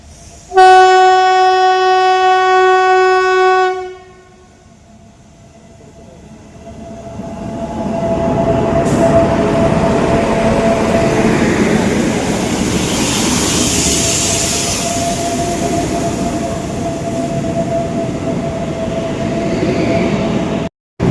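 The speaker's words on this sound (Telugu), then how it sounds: "ఫ్రెండ్స్ ట్రైన్ అయితే వచ్చేసింది ఇదిగా ఇది" A train horn blares loudly for several seconds, then a heavy train rumbles steadily past nearby at a level crossing near Araku, with continuous clattering and a faint whistle tone.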